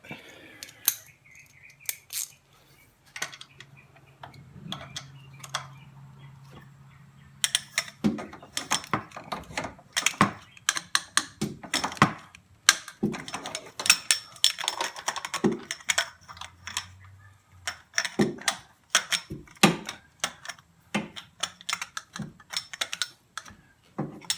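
A wrench tightens the power steering pump on a 2010 Honda Odyssey, close rapid ratcheting clicks in bursts with short pauses between them.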